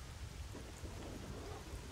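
Thunderstorm in the video game S.T.A.L.K.E.R.: Shadow of Chernobyl, with steady heavy rain hissing and low thunder rumbling throughout, loud and continuous with no voices.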